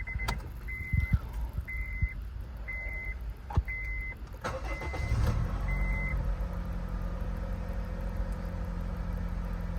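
A few electronic chime beeps, then a 2010 Honda Fit engine cranks and catches with a low rumble after a spark plug change, settling into a steady idle close by.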